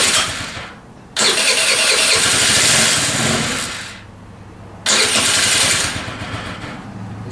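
A scooter engine starts up in two bursts, loud sputtering cranks that catch and roar briefly before dropping back to a lower rough idle, close by with no talk.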